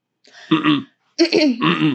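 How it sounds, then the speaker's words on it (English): Two short, throaty burps from a person, the first brief and the second longer and rumbling, loud and close with quiet between them. "Did you burp?"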